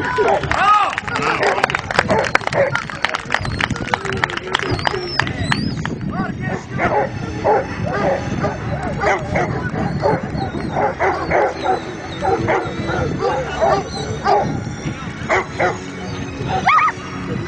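A dog at a 2010 Bulgarian specialty dog show barks and yips repeatedly during a demonstration of playing with a wild boar, loud and busy amid crowd noise and an announcer's talk.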